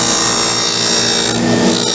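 A power tool cuts a dado into wood for a shoe stand divider, giving a loud, steady, continuous whine and grind that runs through the whole stretch with no talk.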